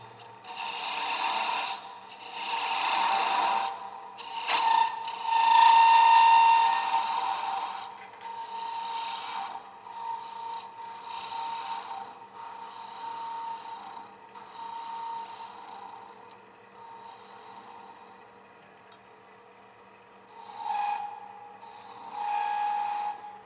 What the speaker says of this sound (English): if I'll use a 3/4 inch gouge